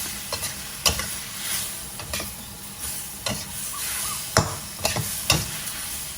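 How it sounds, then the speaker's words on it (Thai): Chicken giblets with cabbage and spring onion are stir-fried in a pan with a little added water: a soft sizzle under repeated sharp scrapes and clacks of a spatula, fairly close and alone. "ผัด ให้กระหล่ำสุก นะฮะ"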